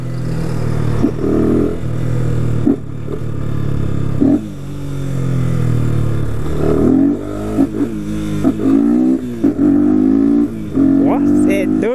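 A 250cc motorcycle running with no air filter revs repeatedly through rising and falling engine sweeps while riding, close and loud, with people talking over it throughout.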